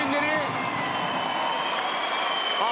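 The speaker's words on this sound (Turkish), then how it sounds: "alkışlıyor milli takımımız." Crowd noise fills a handball arena during a Turkey versus Belgium men's World Championship 2023 qualifier, a steady loud din of applause and voices that holds evenly throughout.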